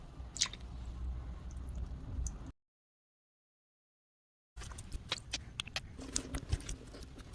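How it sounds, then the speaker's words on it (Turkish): Hands kneading noodle dough made with black mulberry juice, producing soft, wet squishing and slapping sounds, close and quiet, broken by a two-second silent gap partway through, with no voices. "Kıvama gelesiye kadar güzelce yoğuracağım."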